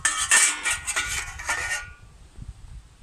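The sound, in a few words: Dutch mess kit pan placed on camp fire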